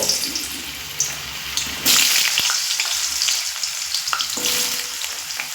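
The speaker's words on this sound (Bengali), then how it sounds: "এবার এই তেলের মধ্যে যে আলু আর কুমড়ো আমি কেটে রেখেছি ওই কুমড়ো আর আলুটা ভেজে নেব" Potato and pumpkin pieces fry in hot oil for a Bengali Malabar spinach dish, giving a steady, close sizzle that surges loudly around the two-second mark and keeps crackling to the end.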